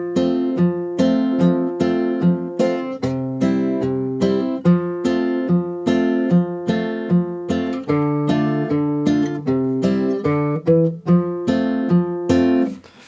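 A tune from Red Dead Redemption 2 played as a simple arrangement on guitar, a clear melody of steadily plucked notes in an even rhythm, heard alone with no talking.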